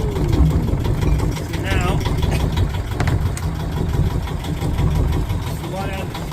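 A Yanmar marine diesel engine on a boat idles right after its first start, a loud, steady, close chugging rumble that never lets up while a person talks over it.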